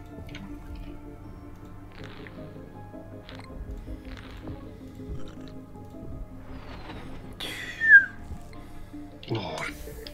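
A loud, sharp human whistle rises and falls for about a second near the end, cutting through ongoing talk and quiet background sound during a Plague Inc. Evolved multiplayer game session.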